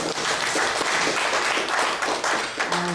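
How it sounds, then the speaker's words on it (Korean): A church congregation in a Korean Sunday service applauds together, a broad, even wash of clapping that fills the room for several seconds before fading near the end. "그렇지만 박수 일단 쳐요."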